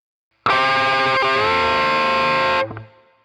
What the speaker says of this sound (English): The second time is a full bend like this.